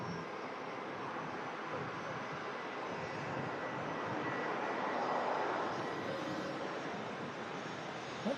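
An airliner landing at Manchester Airport makes a steady, broad roar of engine and rushing air that holds at a constant level throughout, swelling slightly near the middle, with no talk over it.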